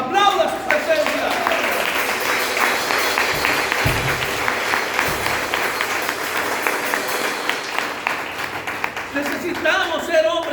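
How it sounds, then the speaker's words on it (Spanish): A church congregation applauds in a dense, sustained burst of clapping with crowd noise, while a voice speaks over it near the end. "Aplauda su presencia."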